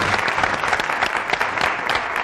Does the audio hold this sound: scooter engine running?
no